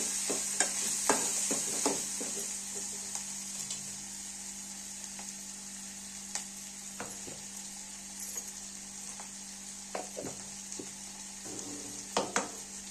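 Chopped garlic and coriander stirred in a hot pan while a toor bean curry is cooked, with a steady soft sizzle throughout and scattered clinks and scrapes of a spoon against the pan, quiet and without voices.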